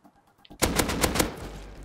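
Rapid automatic gunfire from the survival video game Rust bursts in after a brief quiet moment, a loud, fast string of closely spaced shots with no talk over it.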